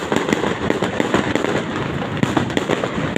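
Rapid, crackling bursts of fireworks popping repeatedly and fairly close at the Mall of Asia, dense and continuous with sharp louder bangs scattered throughout.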